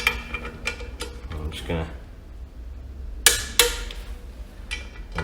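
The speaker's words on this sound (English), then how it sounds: "So I'm just going to swap to the torque wrench." A torque wrench tightens the bolts of a lightened flywheel on a Zetec engine, with sharp metallic clicks and clanks spaced apart and a voice talking between them.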